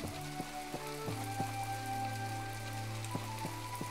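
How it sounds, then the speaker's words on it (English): Rain falls steadily in the video game My Time at Portia, a dense patter over the ground under a low sustained hum, with soft regular ticking tones repeating through the scene. "Ooh, actually, it's raining."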